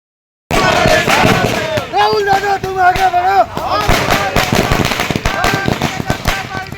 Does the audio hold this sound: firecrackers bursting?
yes